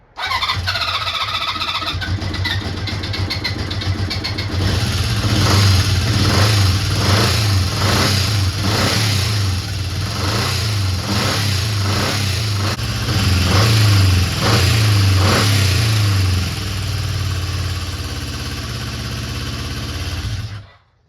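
A classic Honda CB400 Four motorcycle engine idles on only two of its four cylinders. It gives a loud, lumpy, uneven running note with a rhythmic throb and occasional surges, continuous for about twenty seconds before it stops.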